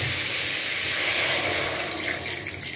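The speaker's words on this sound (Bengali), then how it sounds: "লাউটা একদম এবার এর মধ্যে ঝোল দিয়ে দেবো।" Water is poured into a pot of bottle gourd curry to make a thin broth, producing a loud, continuous splashing gush that eases slightly in the final moments; no talking.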